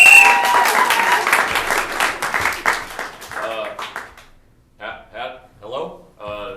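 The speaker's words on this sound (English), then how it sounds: "So please give these kids a round of applause." Applause from an audience at an improv show fills the first few seconds and fades, and speech takes over afterward.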